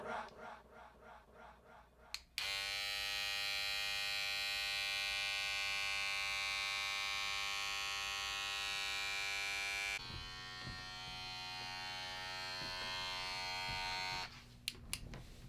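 An electric shaver trims off a goatee with a steady, close buzzing hum that runs unbroken for most of the stretch, its pitch shifting slightly partway through before cutting off near the end.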